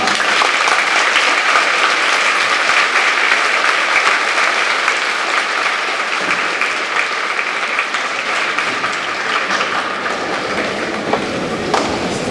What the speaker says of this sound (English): Please give our veterans a round of applause.